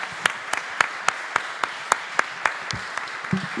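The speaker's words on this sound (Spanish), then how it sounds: "Así que un aplauso para ellas." Seminar attendees give a short round of applause, about a dozen sharp, evenly spaced claps that stand out clearly, with a bit of talk near the end.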